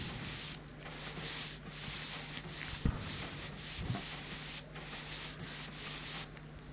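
A rag rubs steadily back and forth over a shoe during shoeshining in a video game, a continuous scratchy swishing with a low background hum and no speech.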